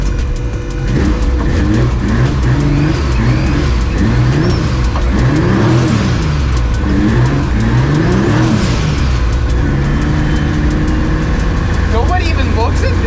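A Suicid3 MX3 car on snowy roads revs hard and accelerates, its engine note rising and falling through repeated climbs, loud and close throughout.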